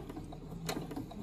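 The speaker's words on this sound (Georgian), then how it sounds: "დავიწყოთ კერვა. თავიდან ვაკეთებთ წინ და უკან სვლას." Sewing machine with a Schmetz size 92 needle starting a seam, a short burst of close mechanical clicking and ratcheting stitches.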